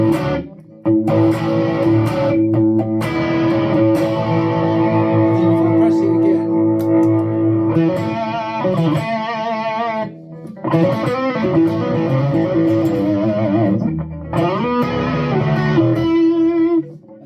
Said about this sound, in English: Here we've got the crunchy rhythm sound.